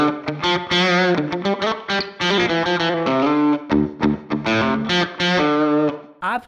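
Electric guitar played through a Strymon Cloudburst reverb pedal on a short, close room setting, with loud strummed and picked chords and phrases ringing out with a tight, brief ambient tail and no talking.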